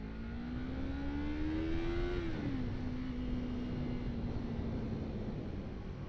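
A Yamaha MT-03 motorcycle engine revs up with a rising drone that climbs, drops briefly as it shifts, then holds a steady pitch under broad road and wind noise, heard from on board.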